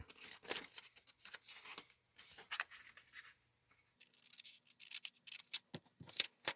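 Crisp snipping and rustling of scissors cutting the middle out of paper, in short irregular bursts with brief pauses, close by and fairly quiet.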